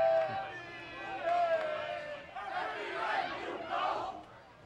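A cheering section at a high school softball state championship game in Waco yells and shouts in sustained bursts, a crowd of voices rising and falling over several seconds close to the field.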